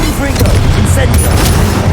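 Confringo, an explosive fire spell in the wizarding game Hogwarts Legacy, bursts with dense booming blasts and crackling impacts that run continuously through the two seconds at loud, close range, with no clear speech over them.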